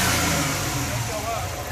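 A 1986 Nissan 200SX engine running cold after maintenance, a loud steady close rumble with slight revving swells, and someone talking over it.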